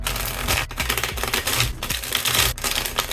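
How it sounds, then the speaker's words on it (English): Rapid riffling and flapping of a shuffled Uno Flip deck, a dense crackling burst repeated several times in close succession. "Before you play, you shuffle the deck."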